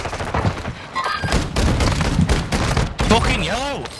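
Gunfire in a shooter video game comes as a rapid cluster of loud, punchy shots and thuds, mixed with other game effects and some rising whistling tones, close and dense over a few seconds.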